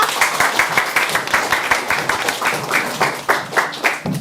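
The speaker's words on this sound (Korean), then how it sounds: "모두 박수로 환영 부탁드립니다" An audience at a youth startup showcase event in Gangbuk gives warm applause to welcome the district mayor, steady rhythmic clapping from a sizeable crowd that carries on without any talking.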